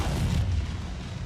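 A deep, rumbling explosion as a target is destroyed in MechWarrior 5: Mercenaries, a loud, sustained low boom that fades slightly over about a second.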